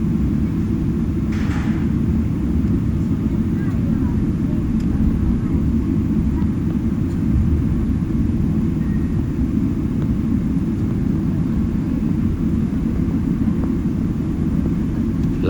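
An Emirates airliner sits at the end of the runway before takeoff on a Dubai flight, its engines giving a steady, loud low rumble that holds evenly throughout, heard from inside the cabin.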